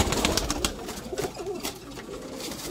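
Red-beaded Sialkoti pigeons coo softly and repeatedly nearby over a dense, noisy background of fluttering and rustling.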